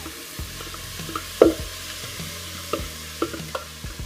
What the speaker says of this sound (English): So here we have our garlic that's sizzling.